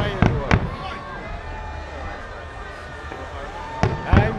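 A few sharp firework bangs near the start and end of a New Year fireworks show in Honolulu, with crackling bursts over a steady background hum of an outdoor crowd.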